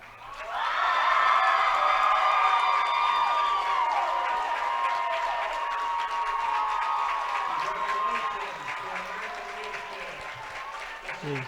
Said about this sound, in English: The ALA fans giving their team a enthusiastic applause there.